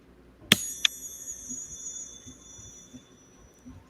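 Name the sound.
star wand chime being rung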